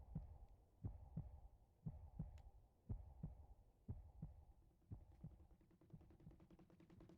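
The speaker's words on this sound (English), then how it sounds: "There is a heartbeat sound coming from the controller." Controller rumble in Donkey Kong Bananza pulses like a heartbeat, a soft low double thump repeating at a steady rhythm, faint and alone.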